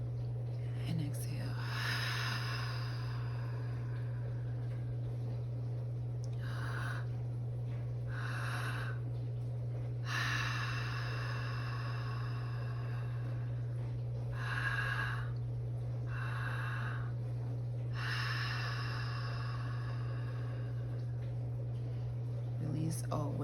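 Repeated audible breaths in a guided breathwork session, airy exhales in a slow, regular cycle, close and soft over a steady low hum, no talking heard.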